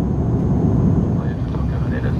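Steady, loud low roar inside the economy cabin of a Lufthansa Airbus A340 in flight before the approach into Tokyo Haneda, a continuous engine and air rumble.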